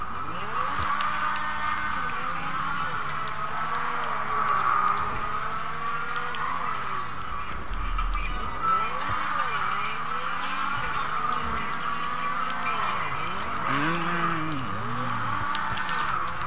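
A car drives hard in GTA V Online on PS4 Pro, its engine revving up and down through gear changes in a steady, close whine, with occasional tire squeal.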